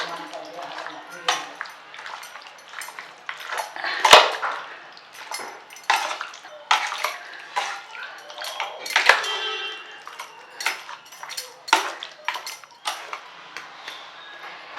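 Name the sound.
mixing chicken marinade of curd and spices in a bowl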